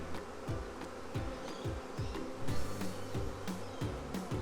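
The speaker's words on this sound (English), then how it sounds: "Let's make sure all the little bees are out of the way." Honey bees buzzing around hive frames being handled and set back into a hive, a steady close hum with repeated low knocks and thuds from the frames moving.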